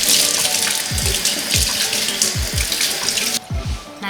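Spring onions and ginger are rinsed under a running kitchen tap, the water splashing steadily into the sink with several low gurgling pulses as the stream breaks over the vegetables.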